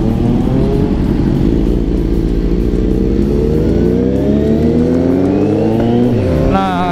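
A naked sport motorcycle engine, from a test ride of bikes like the Ducati Monster 821 and Yamaha MT-09, revs loudly and close, rising steadily in pitch through one long continuous pull.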